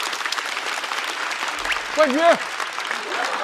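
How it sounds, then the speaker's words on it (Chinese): Sustained audience applause at a stand-up comedy show fills the room as a steady dense patter, with a voice speaking briefly over it partway through. "再次掌声"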